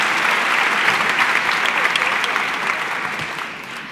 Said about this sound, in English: Let's give these hungry people a round of applause